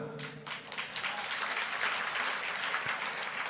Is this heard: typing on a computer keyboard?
no